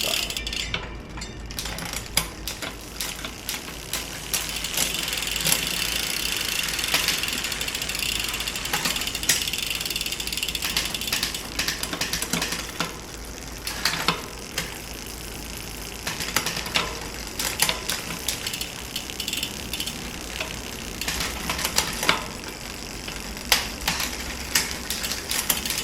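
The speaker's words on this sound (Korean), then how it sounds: "변속을 한번 해보겠습니다." A Madison minivelo bicycle's gears click and ratchet as it shifts through its speeds, with close, rapid freewheel ticking in bursts and pauses while the drivetrain is turned by hand, with no talk.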